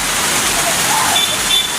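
Rain falling outdoors after several dry days, a steady close broadband hiss that holds evenly throughout, with a faint voice briefly showing through.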